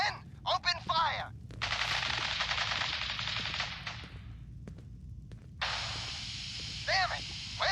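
Rapid bursts of automatic gunfire and single shots ring out in the Fallout 4 video game, loud and close, with speech-like sounds mixed in between the volleys.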